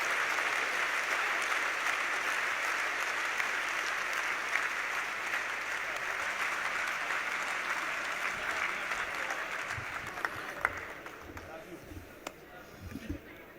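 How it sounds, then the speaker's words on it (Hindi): An Indore audience applauds steadily to welcome a guest on stage, a dense, sustained wall of clapping that thins slightly toward the end, with no talk over it. "जब तक एक एक व्यक्ति दोनों हाथ आकाश में उठाकर अपनी घनघोर तालियों के साथ जावेद साहब का स्वागत ना करे"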